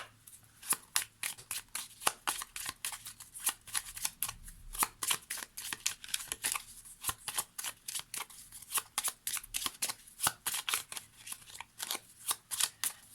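A deck of Lenormand cards shuffled by hand for a reading, with rapid, regular riffling bursts repeating throughout, close and fairly quiet, without speech.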